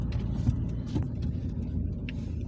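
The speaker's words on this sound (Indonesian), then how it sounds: "Itu ada mobil tuh" A car on a road during a trip toward Mount Siron in Aceh Besar, a steady low engine rumble passing nearby with no clear rise or fall, continuous through the moment.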